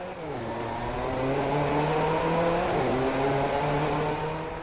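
Race cars accelerate in Driveclub on the PS4, their engines revving and climbing through the gears in a rising whine that swells and falls back as they pass, with no one speaking.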